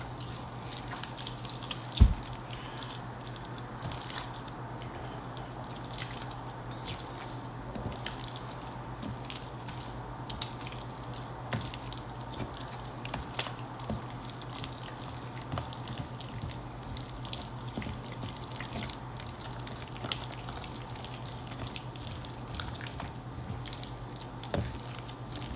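Oyster dressing squeezed and mixed by hand, wet squishing and soft patters repeating irregularly at close range over a low steady hum, with one sharp knock early on.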